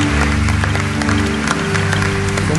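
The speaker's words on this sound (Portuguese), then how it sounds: "aplaudamos o Santo Evangelho" Sustained applause from a church congregation after the Gospel reading at a Catholic gathering, clapping continuously and densely over a low droning hum that may be a held organ or keyboard chord.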